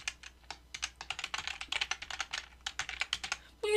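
Quick typing on a computer keyboard while entering text into an Excel spreadsheet cell: a close, uneven run of crisp key clicks, with a brief tonal sound at the very end.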